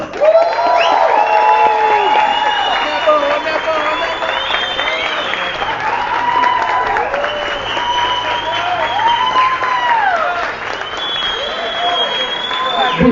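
A crowd at a political rally in Londrina for a presidential pre-candidate bursts into sustained applause and cheering, with whoops and shouting voices riding over steady clapping throughout.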